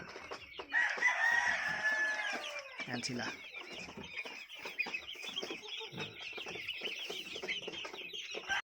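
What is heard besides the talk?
hybrid chickens, Jersey Giant and Rhode Island Red crosses, clucking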